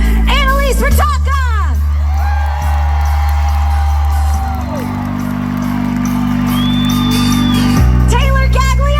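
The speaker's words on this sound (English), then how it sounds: "please give a huge round of applause for my amazing dancers" A concert crowd cheers and whoops for the dancers at a live show in Spokane, with loud shouts over sustained music. Someone speaks over a microphone at the start and end.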